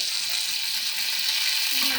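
Masala-coated fish frying in hot oil in a wok, a steady broadband sizzle throughout, close and fairly loud with no talking.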